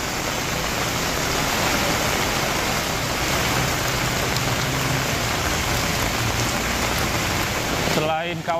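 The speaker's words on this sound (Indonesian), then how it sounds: "saat ini hujan belum berhenti" Heavy rain pours steadily during flooding in South Jakarta, a dense, continuous hiss that stays loud and unbroken throughout before a brief disturbance at the very end.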